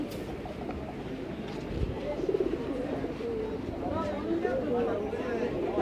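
Pigeons coo in low, soft bursts at a busy pigeon market in Bangladesh, where pairs are caged for sale. The birds are mixed into a steady murmur of crowd chatter and nearby voices.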